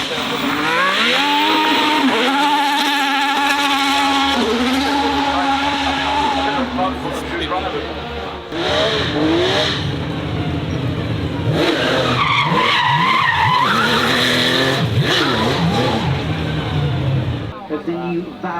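Formula 1 race cars running at the Goodwood Festival of Speed, with loud, high engine whines that rise and fall between gear changes, and voices talking over the continuous roar.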